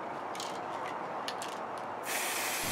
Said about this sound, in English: make sure you read the instructions on your spray can before spraying